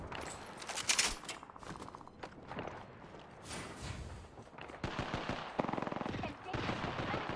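Rapid bursts of automatic gunfire and single shots in the video game Apex Legends, loud and clustered, with footstep-like clatter between volleys and quiet talk underneath.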